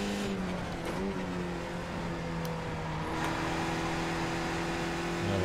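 A race car in iRacing on the Laguna Seca track skids and squeals its tires over a steady, droning engine note, the sound loud and continuous from start to finish.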